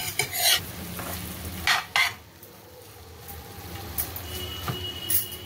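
Cowpea leaf greens being stirred with salt in a frying pan, a spatula scraping and clattering in bursts over a steady soft sizzle, close and fairly quiet, with no voices.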